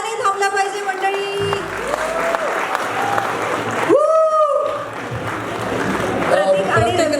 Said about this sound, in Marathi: जोरदार टाळ्या, टाळ्याने थांबल्या पाहिजे मंडळी.